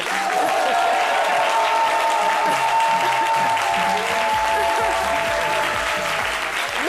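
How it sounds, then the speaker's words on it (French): A studio audience at a French midday television show applauds Santa Claus on Christmas Eve, with steady, dense clapping that holds loud and close for several seconds alongside faint crowd murmur. "Merci d'applaudir très fort pour le Père Noël."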